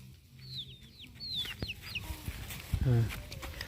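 Chickens clucking and chirping on a farm, with short calls scattered over low background noise and a louder burst near the end.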